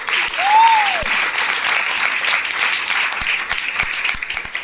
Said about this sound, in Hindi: मैं चाहूंगा एक बार जोरदार तालियां होना चाहिए दिग्विजय पाठक।